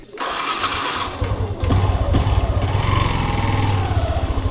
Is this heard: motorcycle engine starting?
yes